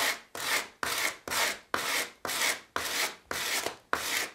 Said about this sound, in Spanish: ahora pues vamos a, lijar un poco ¿eh? lijar aquí